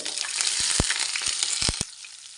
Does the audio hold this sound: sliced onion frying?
yes